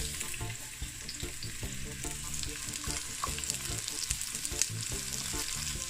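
Crushed ginger, scallion and onions fry in hot oil for Jamaican brown stew chicken, a steady close sizzle with light stirring clicks and scrapes, no talking.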